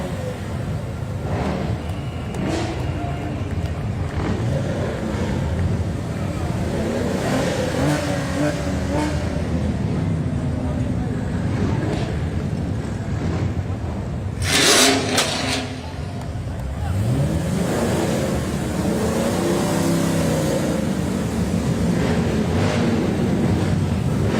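Several Chevrolet Camaro engines rumble and rev together at a Veterans Day parade in Auburn, rising and falling in pitch over a continuous throaty drone, with a sharp burst midway.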